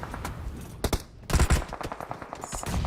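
M4 rifle fire in PUBG Mobile comes as short bursts of sharp automatic shots in clustered volleys, moderately loud, with a few pauses between bursts.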